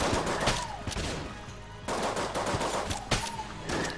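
Rapid repeated gunfire comes from a weapon in the video game Enter the Gungeon. Sharp bursts of shots sit over game background sound, with a brief pause midway.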